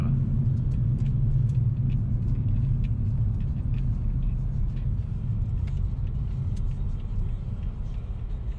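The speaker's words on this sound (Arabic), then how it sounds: "جاكوار محترمة هاي السيارة" A Jaguar car drives with a steady low engine rumble and road noise throughout, close and continuous with no talk.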